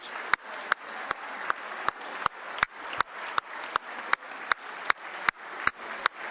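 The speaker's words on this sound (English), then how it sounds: "that clap from Beckwith is killer" Applause at Indiana Governor Mike Braun's first State of the State address: a dense crowd bed with one loud, steady, close clapper cutting through about twice a second.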